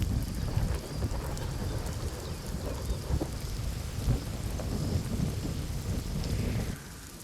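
Heavy monsoon rain pours in a dense, continuous hiss over the Vairag area of Barshi, Maharashtra, with low rumbles of thunder rolling underneath, loud and close.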